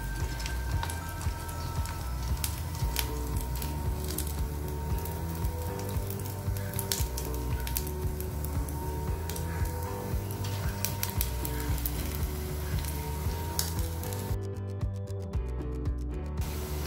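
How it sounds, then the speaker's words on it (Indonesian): Hollow meatballs (bakso goreng) fry in oil with a continuous loud sizzle, full of dense crackles and pops and a low bubbling underneath throughout. "Menggorengnya ini memang membutuhkan waktu yang agak lama"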